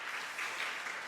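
A church congregation claps steadily to welcome a newcomer during a Sunday service, a continuous wash of applause from many hands filling the room.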